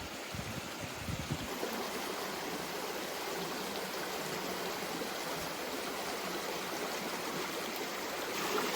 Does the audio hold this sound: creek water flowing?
yes